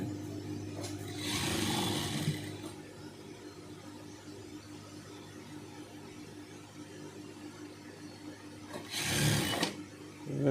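A sewing machine stitches a school uniform dress for young children in two short whirring bursts, the first around a second long and the second near the end, with quiet room background between them.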